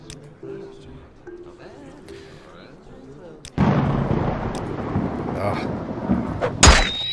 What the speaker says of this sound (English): The thunder sound always hurts my ears.